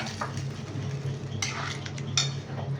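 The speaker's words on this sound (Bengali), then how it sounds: "এবার প্রেসার কুকারে যেটা আছে একটু অল্প জল দিয়ে ডালটা দিয়ে দিই" Cooked dal with a little water being poured into a pressure cooker in a home kitchen, with metal scraping and clinking, a faint sizzle, and a couple of sharp utensil knocks.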